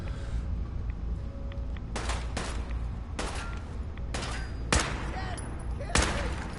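Gunfire in a PS4 video game battle against robots: several loud, sharp bursts of shots spaced a second or so apart over a constant rumbling game soundtrack.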